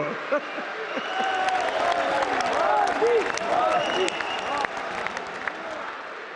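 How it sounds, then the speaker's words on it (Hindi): An audience applauds during the Prime Minister's speech at the launch of the PM Vishwakarma scheme. The clapping is loud and sustained throughout, with crowd voices mixed in. "ना मैं करूं तो ताली बजाते हो"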